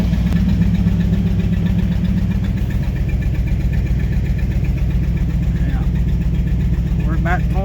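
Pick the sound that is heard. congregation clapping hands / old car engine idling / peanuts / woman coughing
old car engine idling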